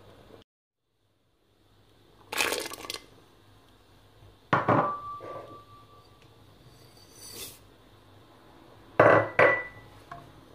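Spoon strikes and scrapes against a pot of harira soup, coming in a few separate bursts of clinking and scraping with quiet gaps between them, close and fairly loud.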